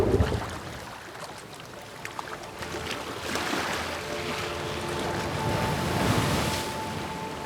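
Ocean surf washes and rolls steadily where whales ride the waves at a surf break, a broad, continuous roar of breaking water with wind noise and no speech.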